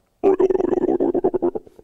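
A voice imitates a stomach growl with a quick series of low, gurgling pulses that fade out over a couple of seconds.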